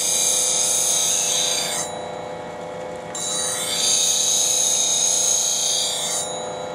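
Skew chisel being sharpened on the fine side of a sharpening stone, a steady scraping rub that pauses briefly midway, close and fairly loud with no talking.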